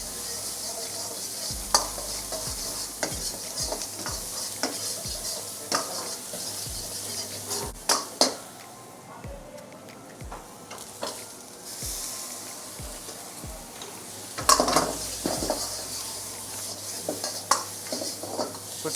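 Garlic, ginger and chopped onions sizzle in a pan for Indo-Chinese Tibetan fusion food, with frequent metallic clacks and scrapes of a utensil against the pan and a few louder clatters, close and unaccompanied by talk.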